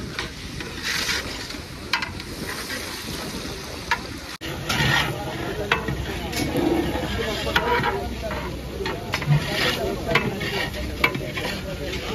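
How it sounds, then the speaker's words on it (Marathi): Onions stirred while frying in a big pot over a wood-fired stove for a 500-person dal mundi: a constant close sizzle with rhythmic scraping and churning stirs, getting busier after a short break partway through. "आता इथे विशाल आलाय कांदा हलवायला"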